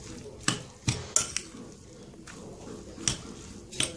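Metal utensil stirring potatoes and vegetables with cumin in a cooking pot, giving several sharp clinks and scrapes spaced irregularly over a quiet background.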